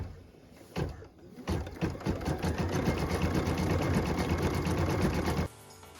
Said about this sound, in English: What we're stitching now is the decorative outline on our star.